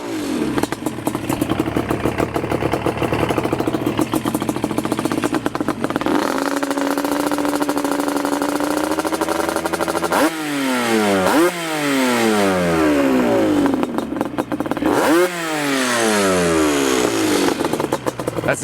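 A Yamaha Banshee two-stroke ATV engine with an aftermarket exhaust runs loud and close, idling roughly, then revs up sharply in repeated bursts, each rise followed by a falling pitch.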